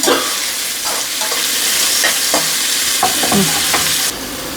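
Large onions frying in oil for chicken fry, a steady loud sizzle with scraping stirs from a spoon against the pan, close up, ending as the heat drops quieter.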